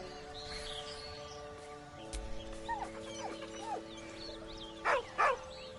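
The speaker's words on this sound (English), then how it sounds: "With a deep, heartbroken whine, the dog bows his head." A dog whines softly in short, rising whimpers and then gives two louder whining cries near the end, over a faint steady hum.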